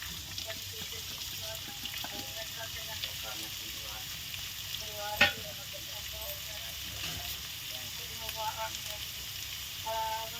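Onions fry in hot oil for egg burji, a soft steady sizzle with scattered light stirring scrapes and one sharp metallic clank midway, no voices.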